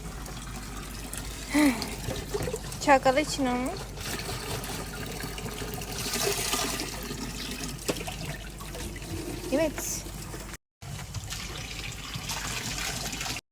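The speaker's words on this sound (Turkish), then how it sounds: "Su doldurmaya gidiyoruz." Water bottles being filled at a spring fountain under willow trees, a steady trickle and splash running throughout, with people talking briefly nearby.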